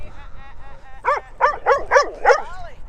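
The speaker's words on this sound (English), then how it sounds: "these dogs are coming" Dogs bark and whimper up close, a run of about five sharp, yelping barks after softer whines, with a person's voice present as well.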